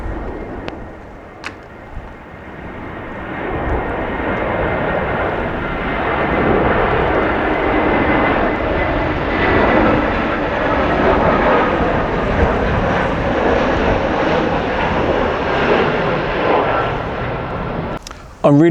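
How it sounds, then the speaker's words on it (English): Airbus A320 engines drone through the cabin in flight out of Frankfurt, a loud, steady broadband roar that holds for the whole stretch with faint clicks near the start and end. "Discovery flight from Frankfurt, Airbus 320"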